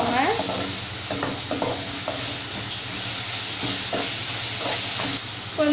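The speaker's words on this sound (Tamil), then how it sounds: "ஸோ இதை எல்லாமே சேர்த்துட்டு நல்லா இந்த மாதிரி வதக்கிக்கோங்க." Tomatoes, spices and salt sautéing in oil in a pan for snake gourd sambar, a loud, dense, close sizzle with repeated rhythmic scraping strokes of a spatula throughout, no talking.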